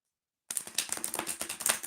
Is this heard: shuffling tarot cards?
yes